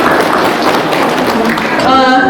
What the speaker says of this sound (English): Please give a huge round of applause for Akham Kiham